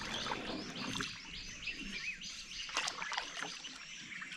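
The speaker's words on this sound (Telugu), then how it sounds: "పిట్టల సౌండ్, అరుపులు." Birds chirp and call along the Krishna river where fish baskets are set, a steady stream of overlapping tweets at moderate distance over a soft watery background, with no talking.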